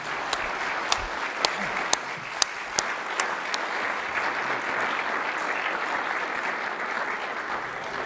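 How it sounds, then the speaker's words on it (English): A conference audience gives a round of applause for an expert panel on Russian hacking, steady sustained clapping from a sizable room with a few sharper individual claps standing out early. "I wonder if you give me a round of applause for our outstanding panel."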